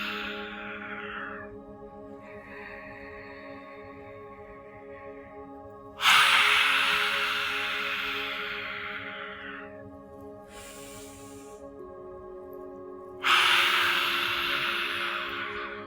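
Deep breathing during a guided stretching and meditation exercise, two slow, strong breaths separated by long quieter stretches, close and clear, over a steady background drone.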